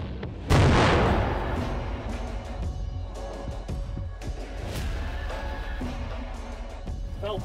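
A muzzleloader rifle blows apart in a controlled outdoor test, one sharp, loud blast that rings out briefly before fading into a quieter background with scattered small sounds.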